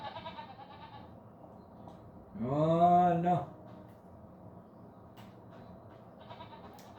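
Goats in the video game Farming Simulator 25 give one loud, clear bleat in the middle, set against quiet farm ambience, with someone speaking briefly in French.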